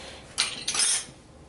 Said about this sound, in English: Stir that up to get the mustard in.